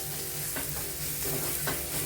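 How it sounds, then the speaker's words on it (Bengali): Steady sizzling of spices frying in a pan for aloo bhindi, with a few scraping stirs of a spoon breaking through the hiss. "এটাও ভালো করে নাড়াচাড়া করে নিতে হবে মশলাটাও ভালোভাবে ভাজা হবে"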